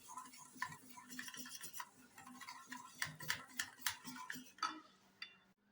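A spoon stirs turmeric into curd in a bowl, giving repeated light clinking and scraping taps against the bowl in a steady rhythm, close and fairly quiet, with no talking.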